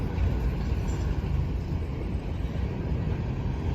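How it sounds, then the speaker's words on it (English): A westbound Norfolk Southern manifest freight train rumbles steadily at a road crossing, a low continuous roar with faint high hiss, no break in level throughout. "This is the Norfolk Southern 11Q. And it's about to stop again."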